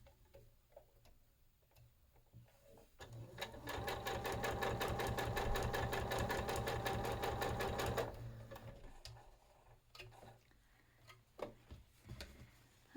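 A sewing machine runs in one steady, fast-stitching burst of about five seconds while quilt block pieces are sewn with a quarter-inch seam. Quieter handling clicks and taps come before and after it, and no one speaks.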